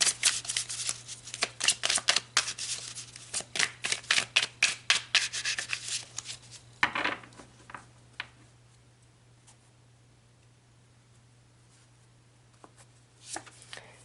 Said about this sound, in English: So let's pull some more tarot for further clarity.